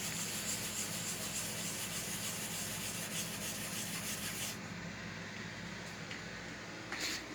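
A rag scrubs nicotine buildup off a wall with a soft, steady rubbing swish, close and fairly quiet, continuing without pause before easing slightly toward the end, with no talking.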